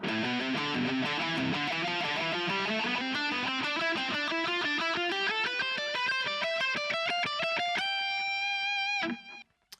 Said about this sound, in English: altogether, this exercise should sound like this